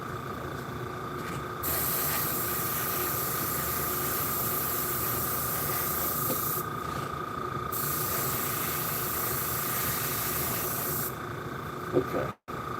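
An airbrush sprays primer in a garage with a continuous, loud airy hiss that cuts in and out in long bursts, ending with a brief sharp click.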